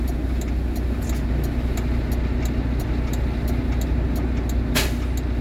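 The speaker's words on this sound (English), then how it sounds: "that sound was the governor cutoff valve" A truck's air brake governor cutoff valve lets out one short, sharp burst of air near the end, over a steady idling engine rumble with faint rhythmic ticking.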